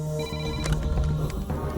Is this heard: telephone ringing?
yes